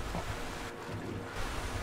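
Steady broadband rush of flowing river water in the video game Skyrim, continuous and fairly loud with a windy, surf-like wash, no talking.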